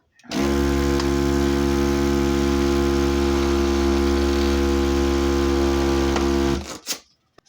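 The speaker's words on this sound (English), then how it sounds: "This machine comes in handy when you are doing a lot of 260s that you have to curl." A balloon curling machine for 260 twisting balloons runs with a loud, steady motor hum for about six seconds, then winds down and stops.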